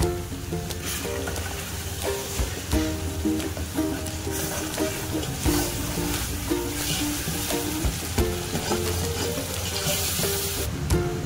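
Green masala for pulao fries in a pan with a steady sizzle while a spoon stirs and scrapes intermittently, close and fairly loud over continuous kitchen hiss.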